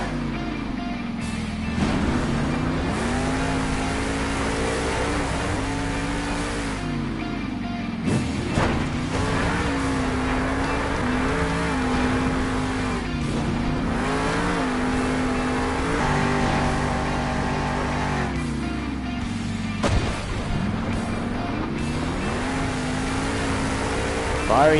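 A monster truck's engine revs hard and continuously through a Monster Jam arena freestyle run on BKT tires, its throttle rising and falling in loud, sustained surges, with brief sharp bangs from the truck and a commentator talking over it.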